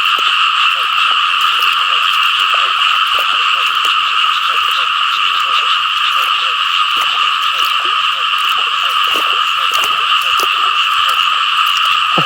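Continuous chorus of many frogs croaking at night on the water while frogs are being caught, a steady layered drone of calls with no clear talk over it.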